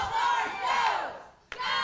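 A Nashville, Tennessee wrestling crowd jeers New South with loud, sustained shouting and booing, dropping briefly before a sharp burst brings the noise back up.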